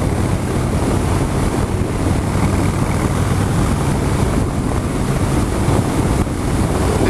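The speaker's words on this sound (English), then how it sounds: "my God, it is quite windy today." Strong wind buffets the microphone during a ride on a Harley Street Bob motorcycle on a gusty day, a loud continuous roaring rumble that dominates throughout with no voices.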